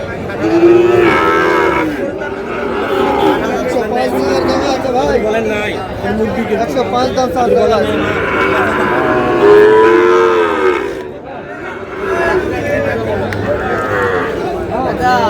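Sahiwal cattle at a livestock market in Brahmanbaria, Bangladesh, moo loudly and repeatedly, long drawn-out calls overlapping with people chattering nearby in a busy crowd.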